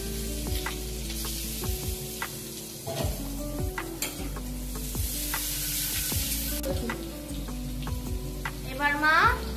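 Onion frying in hot oil with panch phoron and chilli in a home kitchen, a continuous sizzle with repeated scraping and clinking of a spatula against the pan, while people talk over it.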